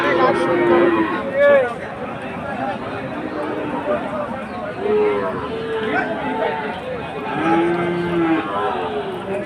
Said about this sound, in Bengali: সুন্দর একটি শাহিওয়াল